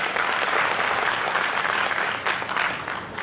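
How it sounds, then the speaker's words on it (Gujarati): Steady, loud applause from an audience at a Giants International Federation gathering in Khambhat, a dense wash of clapping that holds throughout with slight surges near the end. "આપણે જોરદાર તાળીઓથી વધાવીશું"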